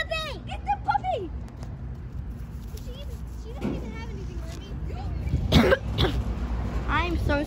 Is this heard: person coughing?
yes